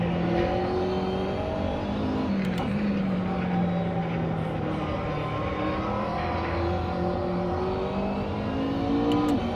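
A race car engine from a racing simulator game at the Zandvoort circuit drones steadily and loudly, its pitch rising and falling through gear changes for the whole stretch, with no voices.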